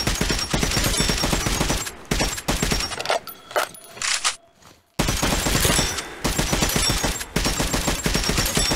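Gunfire in Metro: Last Light Redux, loud close bursts of rapid automatic fire broken by short pauses, with a quieter stretch of scattered shots and clinks before heavy firing resumes.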